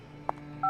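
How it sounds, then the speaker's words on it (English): Automatic cell phone dialing in the video game FBI Confidential: a single short keypad beep followed by a steady dual-tone dialing signal, clear over a low background hum. "Oh, that was an automatic cell phone call."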